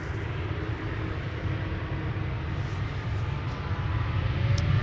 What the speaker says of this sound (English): This is KLM Flight 705, going to Rio de Janeiro. It is a 777-200 21 years old